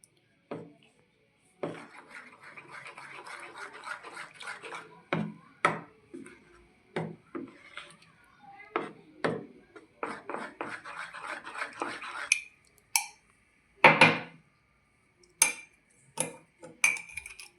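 A spoon scrapes and clinks against a bowl as gram flour is mixed with buttermilk and curd, with irregular taps and rubbing strokes separated by short pauses, plus a few sharper knocks near the end.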